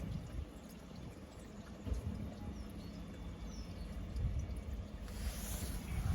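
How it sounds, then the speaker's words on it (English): Faint water trickles and runs quietly beside a road near a stream at a Cornish holy well, a soft continuous wash with low outdoor rumble and a few bird chirps. "I think there's the water running down the road"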